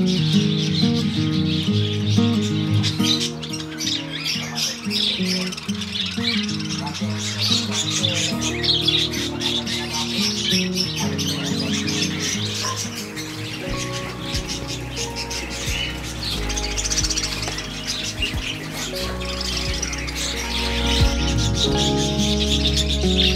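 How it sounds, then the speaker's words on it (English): Exotic birds in a new self-built wooden breeding enclosure chirp and tweet steadily, with occasional cooing and squawks, mixed under a continuous tonal background that sounds like music. "You guys can see that our birds are already enjoying in this new setup that we have provided for them."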